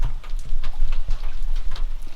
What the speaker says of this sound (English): I'm gonna go out here in this rain